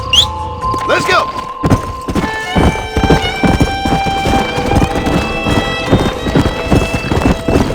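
Horse hooves clip-clopping at a steady trot in the Western video game Red Dead Redemption, close and rhythmic, with a whinny near the start and game music and voices over the hoofbeats.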